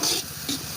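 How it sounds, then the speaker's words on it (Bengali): Spice paste sizzling and being stirred in a pan for cabbage curry at an outdoor village winter picnic, a short burst of close frying hiss with two scraping swells. "মশলাটা খুব ভালোভাবে কষিয়ে দিচ্ছি এখন"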